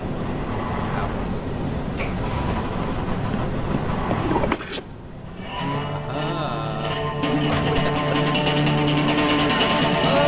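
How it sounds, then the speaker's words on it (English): A moving train in the Fate by Numbers adventure game gives a continuous rumbling rattle, which drops away midway and returns with a steadier tonal hum, under a voice talking. "The door was locked since the train was moving."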